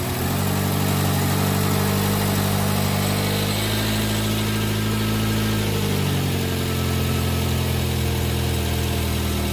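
A 1985 Renault 5 GTL runs at idle through its new exhaust, a loud, steady close-range hum with a brief dip in pitch midway.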